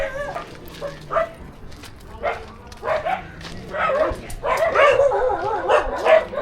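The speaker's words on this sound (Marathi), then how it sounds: "हे बघ कशी भुकतात हा त्या कुत्र्या भुकतात" Several dogs bark and yip excitedly, some whimpering, growing louder and more overlapping toward the end.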